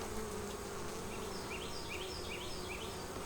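Honey bees in an open hive create a dense, steady buzzing swarm drone, with individual bees passing close by in rising and falling whines, no talk.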